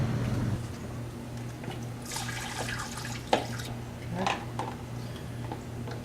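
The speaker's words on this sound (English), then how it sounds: "we're going to go back topside and pour the new coolant in" New coolant pours and splashes steadily into a 1990 Mazda Miata for a few seconds over a constant low mechanical hum, with a small clunk midway.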